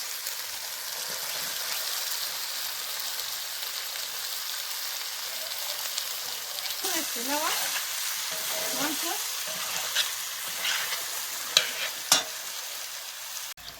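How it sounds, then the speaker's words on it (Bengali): Jackfruit poured into spiced chicken fries with a continuous rain-like sizzle, joined midway by stirring scrapes and a couple of sharp clinks toward the end, heard up close with no talk. "তো মশলা মাংসটা কষা নিয়ে গেছে আমি ওখানে কাঁঠালটা ঢেলে দিলাম"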